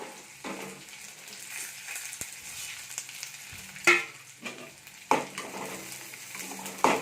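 Garlic fries in a pan with cumin, dried chillies and tamarind added, giving a soft steady sizzle broken by several sharp stirring scrapes and clinks close by.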